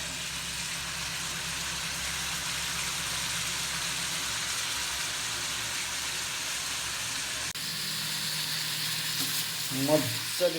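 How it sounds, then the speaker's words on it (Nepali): Local black pork with a little turmeric sizzles and is stirred in a hot pan, a steady close frying hiss with scraping, then a brief louder clatter near the end; no talk. "मजाले भुट्नुपर्छ है यसरी गाइजहरू।"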